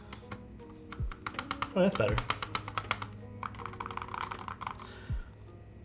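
Fast clacky typing on a Holy60 keyboard fitted with metal keycaps and an ABS spacebar, a steady run of sharp key hits with a few deeper spacebar thumps, while a person talks briefly over it.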